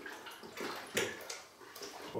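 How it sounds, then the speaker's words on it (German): Liquid, water and dairy, is poured into a cooking pot in a kitchen making curry, heard as faint, uneven splashing bursts that swell and fade several times, with no speech. "Die Zutaten geben wir in den Topf und köcheln diese auf."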